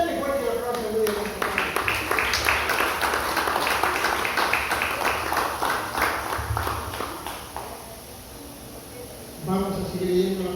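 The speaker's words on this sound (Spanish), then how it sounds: "Dale fuerte el aplauso, muy bien." A church congregation gives strong applause during a Spanish-language service, a sustained patter of many hands beneath a speaking voice that fades after several seconds, then talk resumes alone.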